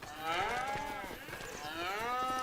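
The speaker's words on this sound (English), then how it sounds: "cows will eat quite a bit of silage, or food." Cattle on a farm low in two drawn-out moos, the second starting just after the first fades, moderately close against a quiet barnyard background.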